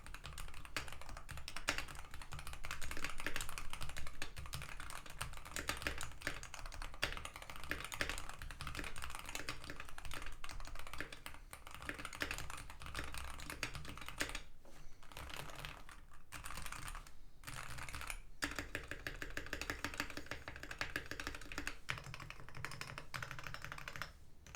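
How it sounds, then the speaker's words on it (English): Typing on a Wooting 80HE magnetic keyboard with stock Lekker 45 V2 switches, PCR Ghost case, lubed spacebar and GMK Honor Dark ABS keycaps: a steady run of close, even keystrokes with a few brief pauses. "here is a sound test with stock lekker 45 V2s, some added loop on the spacebar, the PCR Ghost case and the GMK Honor Dark ABS keycaps"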